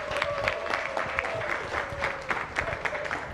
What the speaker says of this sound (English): Ladies and gentlemen, I think we should give a huge round of applause.